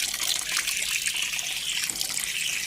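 Water pours or trickles steadily in a bright, hissing stream, close and even for the whole stretch with no voices, as if filling or washing at a tap.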